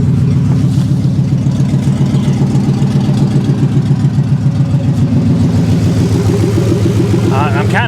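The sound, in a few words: pickup truck engine idling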